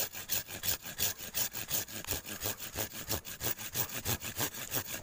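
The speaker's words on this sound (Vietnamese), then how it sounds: "Mình sẽ cưa cành này đi" A hand saw cuts through a peach tree branch in an orchard, with steady back-and-forth rasping strokes, close and loud in an even rhythm.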